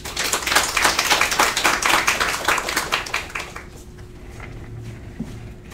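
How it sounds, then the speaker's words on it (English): Audience applause welcoming a speaker to a talk on citrus health benefits, close, brisk clapping from a modest crowd that fades out after about three seconds into quiet room tone. "with our warmest applause, let's welcome Dr. Bhimanagouda Patil."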